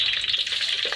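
Pork belly fries in oil with a little vinegar in a pan, giving a steady close hiss and crackle that runs for the whole moment.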